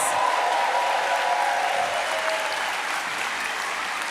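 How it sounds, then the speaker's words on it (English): Enthusiastic crowd applause for the Jiri dancers at a festival program launch, dense and sustained clapping that fills the hall, with a brief cheer near the start and slowly tapering. "Everybody, huge round of applause for the Jiri dancers!"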